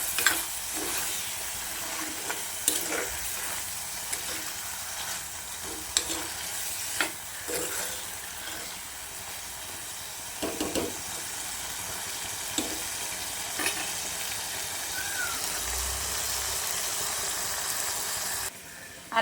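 Prawns and onions fry in a pan for a prawn theeyal, giving a continuous soft sizzle and hiss with occasional clicks of stirring, steady and moderately quiet throughout, with no voices.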